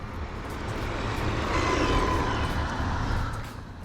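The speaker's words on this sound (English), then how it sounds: "If I hit full throttle" A DEERC 9201E RC car at full throttle, a buzzing whine that swells as it approaches, peaks mid-run and fades again, heard at moderate distance outdoors.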